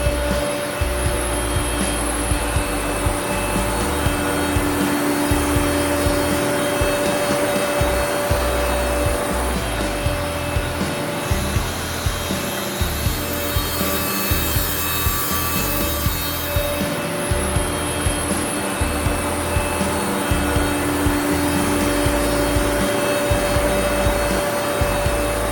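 Ironwood DSP 2500 dual surface planer running and planing wood, a loud continuous machine roar with a steady tonal hum and rough grinding texture, sustained throughout with no pauses.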